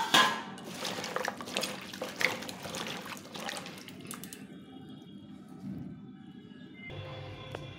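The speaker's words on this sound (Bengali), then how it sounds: "এখন এই সবজিগুলোকে একটু ভালো করে ধুয়ে নিতে হবে।" Chopped eggplant and leafy greens being rinsed by hand in water, a steady trickling and splashing with faint knocks, running water joining in near the end; no voices.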